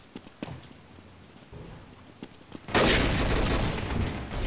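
Gunfire erupts in the Counter-Strike: Source gun game mode as a loud, sustained burst of rapid shots. A few light thuds and steps come before it, and no one speaks.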